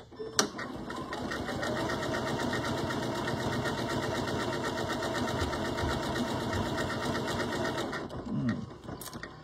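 A sewing machine runs continuously while stitching eyelets into fabric, producing a dense, even mechanical rattle at moderate volume for nearly the whole stretch, with a brief clunk near the start.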